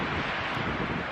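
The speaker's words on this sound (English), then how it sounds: "It's pretty windy up here." Strong wind at about 9,200 feet in the mountains near Mammoth Lakes, a brief, loud, broad roar of gusting air buffeting the microphone, with no voices.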